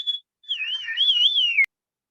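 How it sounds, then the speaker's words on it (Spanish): A single person whistles a wavering, sliding melodic line over an online class call, clear and close, with a brief chirp at the start and an abrupt cutoff. "¿quién está silbando?"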